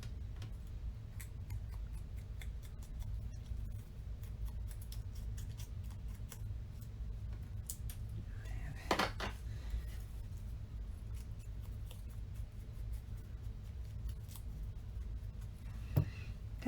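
Scissors trim the edges of paper stickers for a scrapbook layout, faint rapid snips ticking close by in a quiet room, with one or two slightly louder cuts and no talking.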